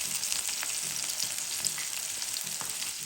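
Sliced bitter gourd with green chilies and salt fries in a pan, giving a continuous bright sizzle broken by light stirring scrapes and spatula taps, close and steady, with no voices.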